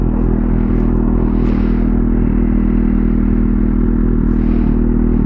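A Kawasaki Z800 motorcycle fitted with a Jeskap exhaust tip and a catalytic converter, its engine holding a loud, steady, low rumbling drone at close range with rushing wind noise, and no talking.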